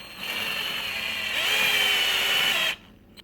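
A power drill set to its lowest setting drives a GripStud into the tire of a KTM 250xc dirt bike, a close, loud whirring that rises in pitch as it bites, then stops abruptly.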